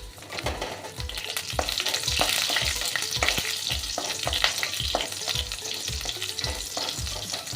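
Nigella seeds, a few fenugreek seeds and green chillies fry in hot ghee, a dense close crackling sizzle with quick, regular spoon strokes scraping the pan throughout.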